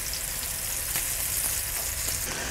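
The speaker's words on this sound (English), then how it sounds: "over medium, medium-high heat, you want to just brown these, turning them a little bit" Rolled Italian veal involtini browning in a pan over medium-high heat give off a loud, dense, unbroken sizzle close up for the whole stretch.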